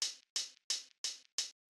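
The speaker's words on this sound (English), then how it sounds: "I took this hi-hat" Five crisp hi-hat hits repeat evenly, each a short bright metallic tick with a quick decay, close and dry with silence between them.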